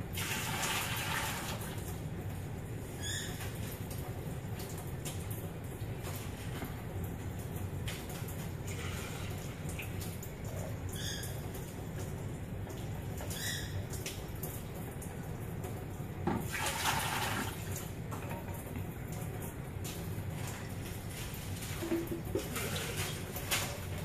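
Warm tap water sprays steadily into a can of malt extract, a continuous hissing gush running throughout with a few faint clinks and no talk.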